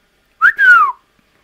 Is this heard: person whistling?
yes